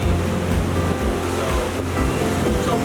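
A boat runs at about 22 mph with its engine near 1,780 RPM, and water rushes and slaps steadily against the hull beneath a low engine drone and wind buffeting the microphone.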